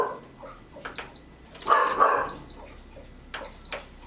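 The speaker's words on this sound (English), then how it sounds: "guys, I'm sorry about the dog." A dog barks in a few short outbursts indoors, with one louder cluster of barks in the middle, fairly close over quiet room noise.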